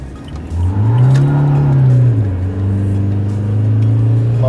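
A stage 1 tuned Toyota Fortuner spins its tyres in a burnout with traction control off, the engine revving up loudly, holding a rising then steady roar for several seconds, close and alone.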